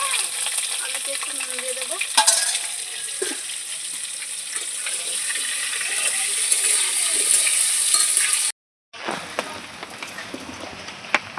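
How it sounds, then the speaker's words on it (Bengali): Potatoes sizzle steadily in hot oil for biryani, a loud, continuous frying hiss close to the pan that breaks off briefly near the end and then resumes. "আর একটু তেল দিয়ে এবারে আলুটা ভেজে নেব"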